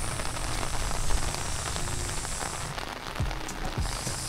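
Steady rain falling and pattering on surfaces at a riverside campground, a continuous hiss with a few faint low thumps, heard on its own without voices.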